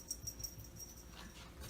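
A pug gives a few faint, high, thin whimpers in quick succession at a distance, over a soft background rumble.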